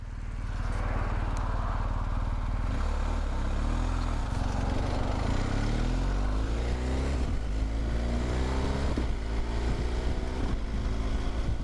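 BMW R 1250 GS Adventure motorcycle engine under way, a loud continuous boxer drone with rising and falling revs through gear changes over wind rush.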